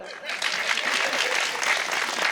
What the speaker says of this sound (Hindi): तो ताली बजा दो फिर आप।